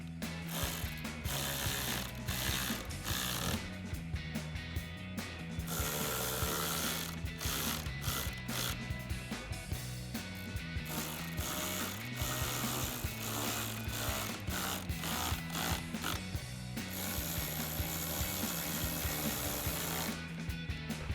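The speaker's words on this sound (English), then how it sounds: "Then we're going to take our 10mm socket and our ratchet. We're going to tighten down these two nuts right here" A ratchet with a 10mm socket tightens the nuts and bolts of a manual adjustable towing mirror on a 2015-2019 Ford F-150, making rapid, close mechanical clicking in repeated bursts throughout, with no talking.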